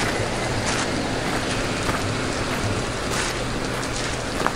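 Heavy rain pours down in a steady, dense hiss with constant patter and no break, loud and continuous as though close by, with no voices over it.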